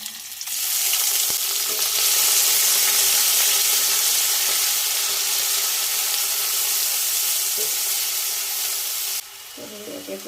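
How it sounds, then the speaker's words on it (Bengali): Onion, ginger and garlic hit hot oil in a kadai as a tempering, giving a loud, steady, broadband sizzle that holds for several seconds, with a few faint stirring knocks and a sudden drop in intensity near the end. "এবার আমি ফোড়নটা দিয়ে নেব। পেঁয়াজ, আদা, রসুনটা"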